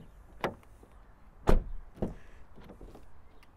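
A 2023 Renault Austral's front door opens with a few sharp mechanical clicks and clunks spaced apart, close by, against a quiet background.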